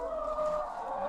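Steady chicken vocalizing in a farm henhouse, a sustained, fairly loud droning cackle from close by with no talking.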